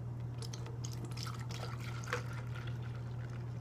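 Liquid being poured into a blender cup for a protein shake, a faint trickling and dripping over a steady low background hum, with no talk.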